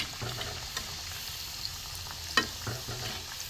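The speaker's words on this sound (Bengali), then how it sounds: "অল্প হিটে অল্প আছে হালকা হালকা ভাজতে হবে" Balushahi sweets fry gently in oil over low heat, giving a faint, steady sizzle with a few soft clinks and stirring knocks.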